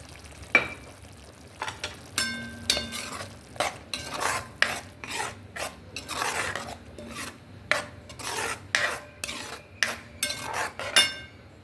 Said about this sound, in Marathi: आता यानंतर आपण टोमॅटोची पेस्ट टाकूया.